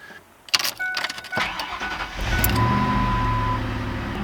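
A 1998 Ford F150 pickup cranks over and fires, a short burst of starter clatter rising into a steady, close engine idle that carries on to the end.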